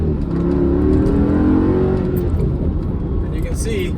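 A Mercedes C55 AMG with a manual swap accelerating from inside the cabin, its engine note rising steadily in a loud, continuous pull that then eases off.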